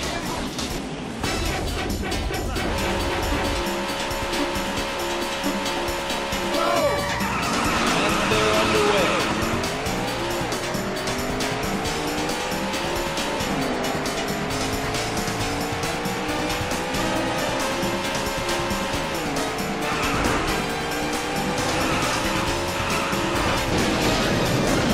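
Race car engines from the Daytona USA arcade racing game on the Seaside Street Galaxy course, with loud revving engine tones rising and falling in pitch, tire squeals and skids over continuous music and game sound throughout.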